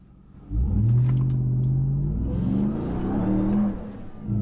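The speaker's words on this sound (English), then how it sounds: "Okay, so you can break the back tires loose." A 2021 Ram 1500 TRX pickup, 702 horsepower, accelerates hard from a start with its rear tires breaking loose; a loud, steady engine roar with rising revs and tire noise holds close and continuous, with no talk.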